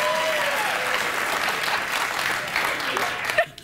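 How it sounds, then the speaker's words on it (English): A late-night talk show studio audience claps and cheers in a sustained, fairly loud burst that fades out near the end. "Don't ask them anything or they'll clap."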